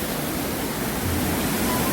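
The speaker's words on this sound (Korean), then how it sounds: "한 50여 갈래의 물줄기가 시원스럽게 내려오면서 그 폭포수를 연상하게 하고 있고요" Indoor artificial waterfall at The Hyundai Seoul, many streams of water falling, giving a steady, dense hiss of splashing water that fills the space evenly from start to finish, with no voices.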